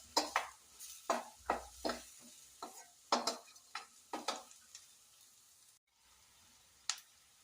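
Onions with chillies sauté in a pan, stirred in a run of distinct spoon scrapes and taps roughly every half second, close and crisp over a faint sizzle, then a pause and one last scrape.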